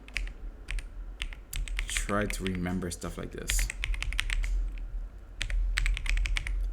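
A computer keyboard is typed on in steady runs of close, crisp key taps, and someone talks briefly over the clicking partway through.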